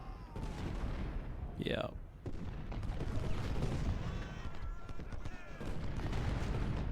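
Battle gunfire from Ultimate General: Civil War at Antietam, a rolling mix of musket volleys and booming cannon shots that stays loud throughout, with a brief word spoken partway through.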